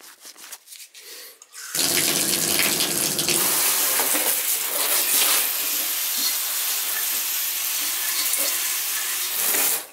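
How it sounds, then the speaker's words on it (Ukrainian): A tap is opened and water runs steadily over a radiator being rinsed, a loud continuous splashing hiss after a short bit of quieter handling. "відкриваємо кран і тупо миємо його"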